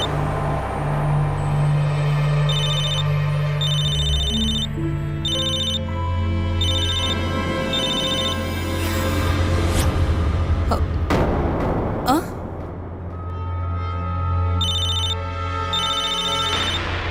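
A telephone rings in a Tamil television drama scene, sounding as repeated bright electronic bursts at a steady rhythm, loud and close over background music.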